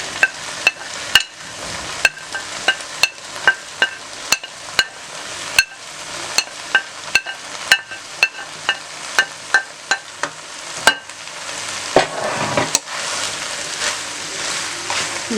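A spoon or spatula scrapes and knocks against a pan as fried vegetables are tossed into noodles, giving a series of sharp metallic clacks in an uneven rhythm, followed by softer continuous stirring.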